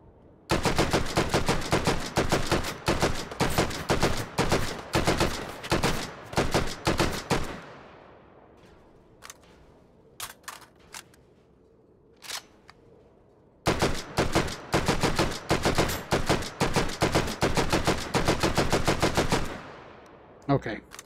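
Full-auto gunfire in the VR shooter Hot Dogs, Horseshoes & Hand Grenades: loud, dense rapid bursts for several seconds, a quieter gap with a few scattered single shots, then another long sustained automatic burst.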